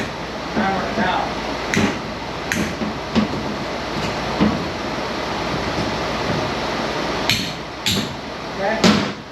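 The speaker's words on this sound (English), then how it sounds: "Hammer it down." Sharp hammer blows from the back of a hammer knocking down metal scrap on an edge, about ten loud impacts spaced irregularly against a steady rushing background.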